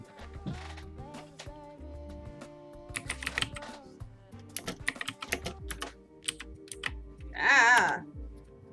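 Fingers tap quickly on a computer keyboard in irregular clusters of clicks over a low background hum, with a short vocal exclamation near the end.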